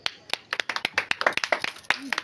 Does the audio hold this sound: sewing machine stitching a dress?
no